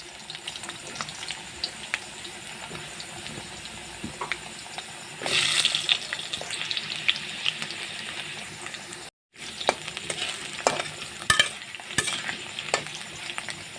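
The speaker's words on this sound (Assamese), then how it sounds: "এতিয়া মই আলুকেইটা ফ্ৰাই কৰি লওঁ, দেখিছে।" Potatoes fry in a pan for a goat meat dish, giving a steady close sizzle with scraping stir strokes. A louder hiss wells up midway, the sound cuts out briefly, then it resumes with occasional clicks of the utensil.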